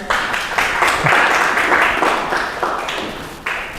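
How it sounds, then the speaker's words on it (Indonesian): A class of students in an Islamic religious education lesson applauds, a steady, sustained wash of clapping that holds at an even level for several seconds before easing slightly near the end. "Oke, tepuk tangan buat kalian."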